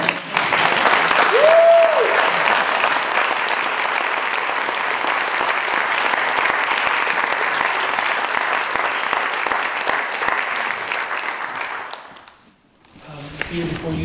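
An audience applauds artists, a loud sustained wash of clapping lasting about twelve seconds before it cuts off, with a brief cheer early on and a few faint sounds after it stops.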